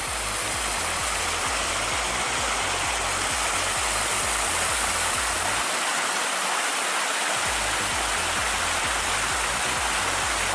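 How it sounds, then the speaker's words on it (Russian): A strong stream of melted snow rushes downhill into a river, a loud continuous broadband roar with churning water texture throughout, close and steady with no voices. "Это просто талый снег спускается вниз и входит в нашу основную речку. Очень сильный поток идет."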